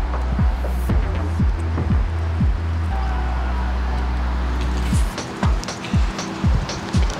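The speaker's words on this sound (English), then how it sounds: "Top up with some ginger beer." Ginger beer is poured to top up a Moscow mule of vodka and lime juice, making a steady fizzing, splashing stream close by over a low hum, with a few soft knocks near the end.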